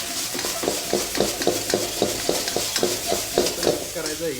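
A spoon stirs khushka rice with sugar in a pan, producing rhythmic, evenly spaced scraping strokes over a light sizzle, close and fairly loud, with no speech.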